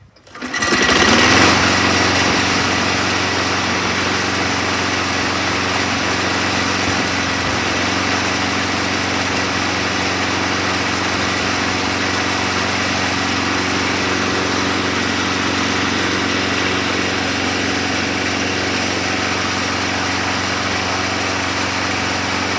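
A 2006 Craftsman lawn mower engine, fitted with a new primer bulb and cleaned carburetor, catches and then idles steadily at a high, buzzing pitch, loud and close, with no talk.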